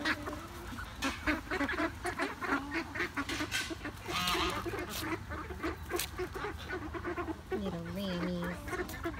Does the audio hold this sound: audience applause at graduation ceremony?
no